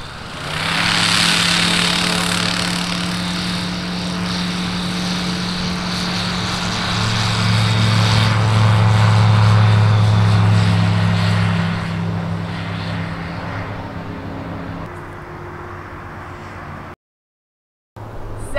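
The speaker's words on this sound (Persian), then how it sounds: "میبینید مگس نیست، اون هواپیمای." A small propeller airplane drones overhead above Namak Abrood, a steady loud buzzing engine hum that swells and then gradually fades.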